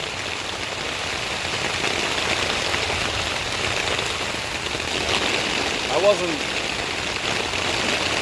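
Steady, hissing rainfall patters continuously at an even level, a dense wash of drops with no pauses.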